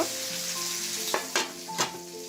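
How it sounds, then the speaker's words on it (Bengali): Vegetables coated in spices fry in a pan as a bhuna with a continuous close sizzle, broken by three sharp scraping strokes of a spoon. "এভাবে আমি দুই মিনিট ভুনা করে নিচ্ছি"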